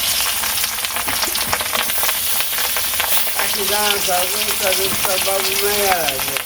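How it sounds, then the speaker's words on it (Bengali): Pieces of katla fish sizzling and crackling in hot oil in a home kitchen, a steady loud frying hiss with popping spatters and some faint clatter. "তেল দিয়ে দিলাম এই যে মাছ দিয়ে দিলাম"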